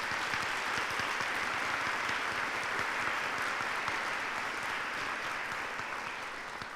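An audience at the University of Kentucky College of Nursing hooding ceremony gives continuous applause, a dense patter of many hands at moderate distance, tapering slightly at the end.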